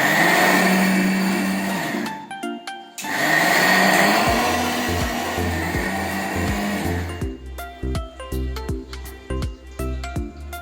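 A mixer grinder grinding spice paste for Bihari fish curry whirs loudly in two grinding bursts separated by a brief pause, followed by clattering and knocking sounds.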